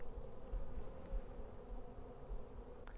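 Honey bees buzz steadily on a hive frame holding stored pollen and larvae, a dense, continuous drone close by with no voices.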